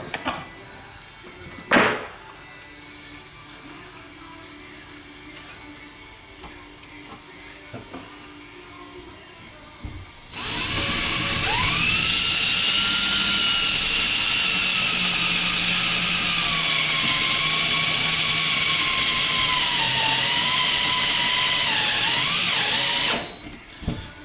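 Power drill running steadily at high speed for several seconds after a brief quiet stretch with a faint knock, its whine shifting slightly as the chuck starts to slip, then cutting off.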